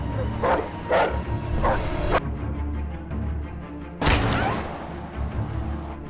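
A feral dog barks close by, several sharp, loud barks in the first two seconds and another burst near the four-second mark, over a low background rumble.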